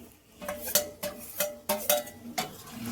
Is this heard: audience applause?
no